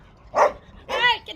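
A dog in a garden lets out two short, close barks about half a second apart, followed by a small yip.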